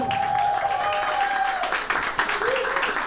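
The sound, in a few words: audience applause for the performing artists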